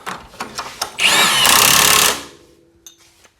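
A ball joint nut on a Honda CR-V is tightened with a power tool during front CV axle replacement. It is a loud, close, steady whirring buzz lasting about a second, framed by metallic clicks and taps.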